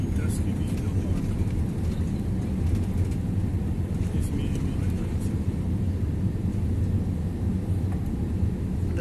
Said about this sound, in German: Geht's nach oben, der Riesenflieger von Emirates.